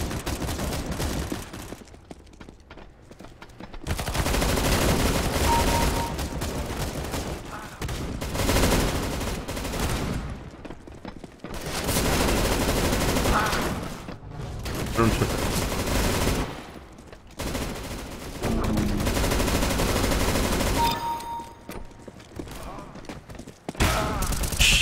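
Rapid bursts of gunfire from Counter-Strike: Global Offensive, including pistol shots, fill most of the clip in dense, loud volleys separated by short quiet gaps, with players talking over the action.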